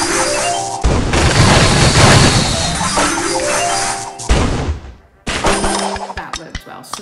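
A light ball and rocket booster combination going off in the Royal Kingdom puzzle game, loud crashing booms and bursts with sparkling chimes layered over them, in two main waves separated by a brief pause.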